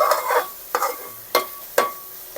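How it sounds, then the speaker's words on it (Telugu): Prawn curry masala is stirred in a covered pan with four distinct scraping strokes at uneven intervals over a low sizzle, close and clear, with no talking. "ఇట్లా కలుపుకుంటూ ఉండాలండి"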